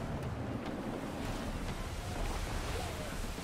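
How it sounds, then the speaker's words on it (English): Gusty wind and rolling ocean waves on the open sea in the video game Assassin's Creed 3, a steady, loud broadband rush of air and surf with swelling gusts and no talk. "Gusty winds can be difficult to manage."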